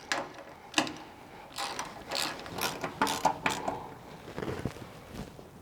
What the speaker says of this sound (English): So we'll go ahead and tighten these.